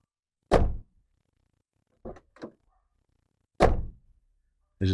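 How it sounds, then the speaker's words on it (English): A Ford Crown Victoria door opens and shuts: two heavy, solid thunks with softer latch clicks between them, close and distinct, with no talking. "One thing I love about these cars is the way they sound when you open the door and close it."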